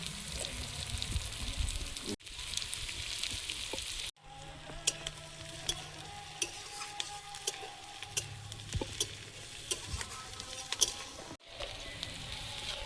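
Spices frying in a hot pan, an even sizzle that drops out in abrupt cuts, with sparse clicks and scraping ticks in the quieter middle stretch and no talk.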